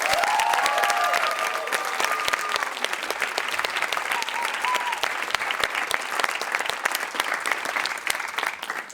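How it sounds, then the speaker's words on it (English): Loud, dense applause from an audience for the speakers at a talk event, continuous and close with a few voices mixed in, tapering slightly at the end. "please, a last loud applause for all the speakers that have performed today."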